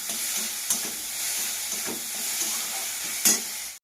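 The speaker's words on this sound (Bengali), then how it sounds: "আর এখানে আমি কড়াইয়ে খাসির ভুড়িগুলো আর পেঁয়াজ আর লঙ্কা একটু হলুদ পরিমাণ মতো একটু লবণ দিয়ে ভেজে নিচ্ছি" Goat tripe with onion, green chili, turmeric and salt fries in a wok with a steady, close sizzle, broken by a few sharp scrapes of stirring; no one speaks.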